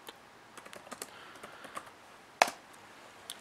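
A command is typed on a computer keyboard in a quiet room, a close run of irregular soft key clicks ending in one sharper, louder keystroke, then a last faint tap.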